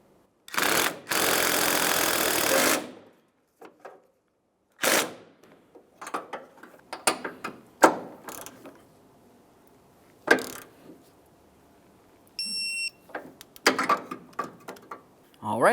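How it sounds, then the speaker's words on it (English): A wrench snugs and torques a forward body mount nut on a 2003-2011 Mercury Grand Marquis, giving a long loud burst of ratcheting followed by scattered close clicks and metallic knocks. "snug the nut, and torque that to 41 foot-pounds"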